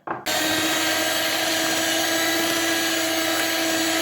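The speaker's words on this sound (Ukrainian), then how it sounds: "Я просто візьму міксер і швиденько, щоб швидше було, переб'ю міксером і додаю сіль" Electric hand mixer whirring at steady high speed as it beats pie batter, switching on abruptly and running loud and unbroken to the end.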